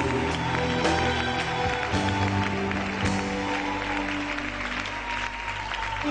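A church congregation claps and cheers in praise of the Lord, a dense, loud, continuous wash of applause filling a large hall.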